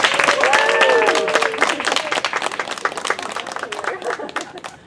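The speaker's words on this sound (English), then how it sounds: "please give a hearty cheer and appreciation for your loved ones who've joined us here today." Graduation audience cheering and applauding at a ceremony, a dense burst of claps with whoops that thins out over several seconds.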